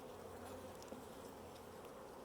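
Honey bees hum and buzz in a steady, dense drone inside an open hive during a spring inspection, faint and continuous.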